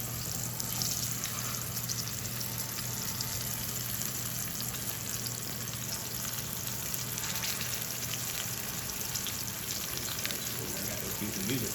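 Floured swordfish frying in hot oil, producing a loud, dense, continuous sizzle and crackle that holds steady throughout, heard up close.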